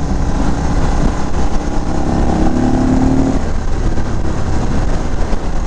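A 2022 Indian Chief motorcycle cruises through Arizona canyons, its engine droning steadily under heavy wind rush, with a brief rising rev in the middle; loud and close throughout, no voices.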